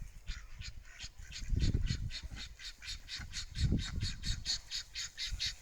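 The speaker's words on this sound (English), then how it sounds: "these are our little ducklings. Our ducks that are giving us duck eggs." Ducks and ducklings in a backyard garden squawk and quack in a steady run of repeated calls, with louder low bursts of activity partway through; no one speaks.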